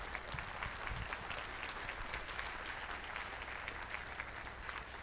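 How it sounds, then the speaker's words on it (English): Steady, dense applause from a conference crowd at SXSW thanks two robotics researchers after a panel on humans and robots, even and sustained, heard from a distance at low level. "We can get a round of applause for them."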